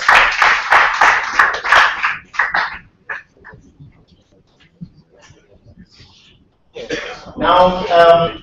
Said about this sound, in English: Can we give a hand for round of applause?